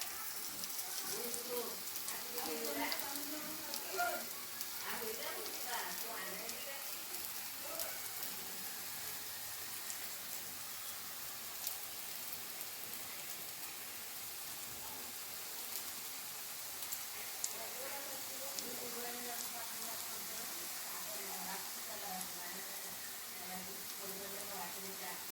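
Steady sizzle of pea kebabs frying in a pan, a soft continuous crackle like light rain running throughout, with voices talking over it at times.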